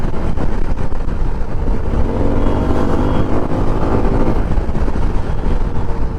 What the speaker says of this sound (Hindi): यू कैन सी मतलब सिटी ट्रैफिक में कितने अच्छे से ये बाइक जो है परफॉर्म कर रहा है